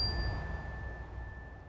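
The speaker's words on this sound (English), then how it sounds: "arrived at her grave and rang a bell" A hand bell rings once at a grave during a memorial honoring late nurses in Dallas, Texas; its clear tone hangs and slowly fades in a quiet setting.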